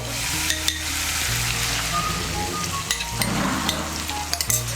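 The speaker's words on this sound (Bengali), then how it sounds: "এখন এর মধ্যে দিয়ে দেবো ফেটানো টক দইটা" Beaten sour yogurt hits a hot pan for doi potol, a vegetarian Bengali pointed gourd curry, giving loud close sizzling and frying with scraping stirs and light clinks.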